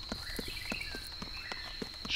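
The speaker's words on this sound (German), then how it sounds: "Ich höre Schritte." Player footsteps in the video game DayZ on Lingor Island, a steady series of soft, evenly spaced steps over a constant high electronic tone, moderately near with no talking.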